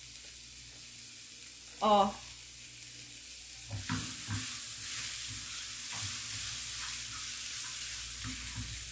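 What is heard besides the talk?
onions frying in a pan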